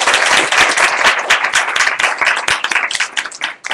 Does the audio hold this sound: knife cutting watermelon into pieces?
no